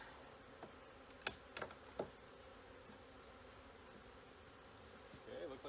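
Honeybees buzzing inside an opened hive, a faint continuous hum with a few soft clicks and taps of handling, and a closer bee passing near the end.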